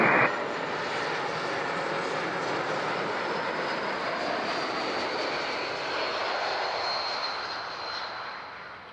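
A fixed-wing airliner lands on runway 14 at Zurich airport, its broad engine roar loud and steady throughout before easing slightly at the end, with no talk.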